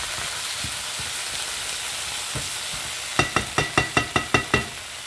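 Anchovies sizzling in a pan with the heat just turned off, a steady close frying hiss with a few soft knocks, then a quick run of about eight sharp rhythmic taps near the end.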